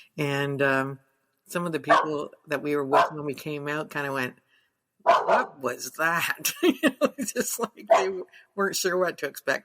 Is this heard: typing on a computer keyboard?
no